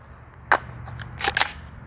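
Sharp cracks from an AR-15 rifle: one report, then a quick pair about a second later, all fairly distant over a low background rumble with no talking.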